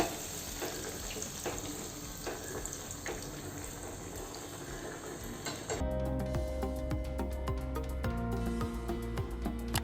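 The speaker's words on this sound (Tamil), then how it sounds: "ஒன்றா போட்டு ஃப்ரை பண்ணி எடுத்துக்கலாம்." Vegetable burger patties frying in hot oil give a steady, fairly loud sizzle, and about halfway through the crackle turns brighter and more intense as they go into the pan.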